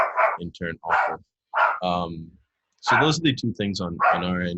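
A pet dog barks in a few sharp yips close by, mixed in among a person talking throughout.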